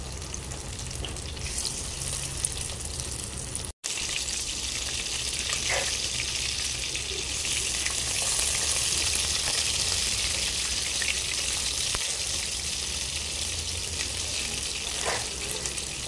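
Marinated dhoma fish fries in a pan with a continuous, steady crackling sizzle throughout, broken only by a brief drop-out and a few faint clinks, with no voices.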